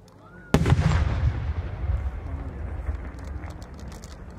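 A No. 8 aerial firework shell bursts at the 2019 Aizu fireworks competition in Japan: one sudden loud boom followed by a long rolling rumble and echo fading over several seconds, with faint crackling outdoors.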